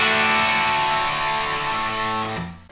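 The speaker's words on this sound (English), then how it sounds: "Then we've got the Overdrive pedal, the Tubescreamer, with that kind of subtle, like classic rock vibe, blues vibe." Electric guitar played through a Tubescreamer overdrive pedal, a sustained chord ringing with mild, warm classic-rock and blues grit, steady and loud before a quick restrike near the end.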